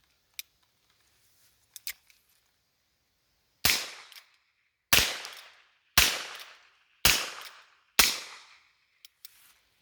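Five .22 revolver shots with Federal Auto Match ammunition crack out at roughly one-second intervals, each sharp and loud with a short decaying tail, preceded by a few small clicks of handling; no talking.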